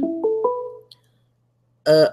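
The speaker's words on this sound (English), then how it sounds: "My phone is ringing." A phone ringtone plays close and clear as three rising electronic tones, goes quiet, then a brighter, harsher burst sounds near the end.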